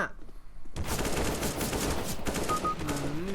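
Gunfire in the CS:GO video game crackles in a loud, dense burst after a brief quiet opening, with rapid overlapping shots filling most of the clip.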